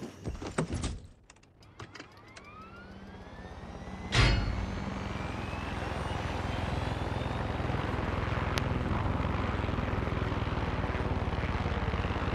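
Synthetic game audio from Far Cry 6: a few clattering hits and a sharp burst, then a steady engine-like whir of a helicopter builds and holds loudly.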